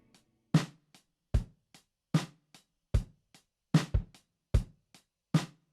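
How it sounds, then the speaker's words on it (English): A dry, unprocessed Logic Pro X Drum Kit Designer kit plays a simple steady groove: punchy kick and snare hits with short hi-hat ticks between, close and clear with no reverb, a dead 70s sound. "It's actually the stock Logic drum kit designer."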